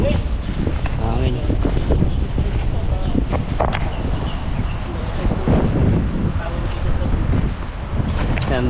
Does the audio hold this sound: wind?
yes